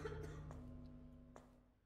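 A video game character in Carcass gives a short, rough cough amid a dense, droning game soundscape, with a couple of brief catches in the throat. Faint and distant under the steady background tones.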